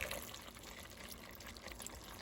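White distilled vinegar pours into a pot of collard greens, a steady soft trickle lasting a couple of seconds, faint and close with no talking.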